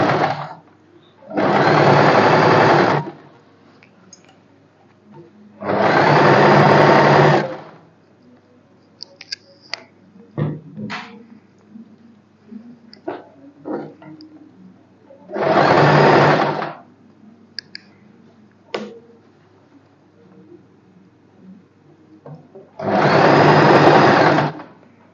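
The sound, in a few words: sewing machine stitching a blouse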